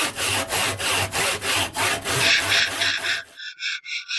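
A hand saw cuts through a piece of wood, giving a close, loud series of rhythmic back-and-forth rasping strokes, ending with a few lighter scraping strokes.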